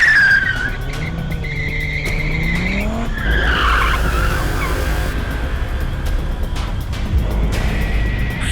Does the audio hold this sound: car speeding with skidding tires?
yes